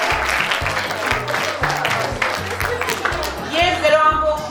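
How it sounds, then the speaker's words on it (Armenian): Audience at a school event claps for the boys' team, a sustained burst of applause from a crowd, with some voices mixed in. "ծափարենք"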